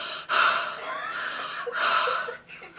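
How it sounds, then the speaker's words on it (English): Loud breathing close to the microphone, with two long, gasping breaths and some snorting in between, heard alone. "It's so loud. What? You're breathing."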